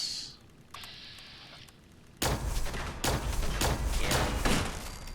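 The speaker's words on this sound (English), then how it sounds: "we're going to get our first test of the plasma rifle" A plasma rifle firing at robots in Fallout 76 gives a run of loud, rapid energy shots in fast succession, heavy and close, after a quieter stretch of whining game tones.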